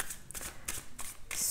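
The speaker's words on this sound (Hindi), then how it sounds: "यहाँ पर इस टैरो डेक शफल कर लेती हूँ" A tarot card deck is shuffled by hand in a few quick, close riffling bursts separated by short pauses, crisp and fairly quiet.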